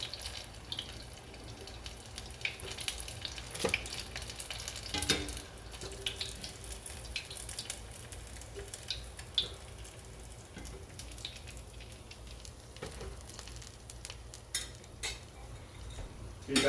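Shrimp fritters crackle and bubble in oil heated to about 350 degrees, a faint, continuous hiss with scattered pops and small clinks, close but quiet and without talk.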